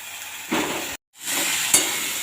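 Malabar spinach stalks and potato pieces fry in a pan with turmeric, a close, loud sizzle broken by a brief silent gap, then resuming with a stirring scrape and a sharp crackle.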